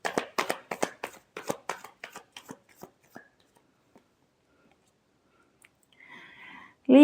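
Tarot cards being shuffled in a rapid run of crisp riffling slaps over about three seconds, fading to near silence, then a short soft rustle near the end.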